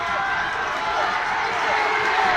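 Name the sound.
crowd cheering at rugby match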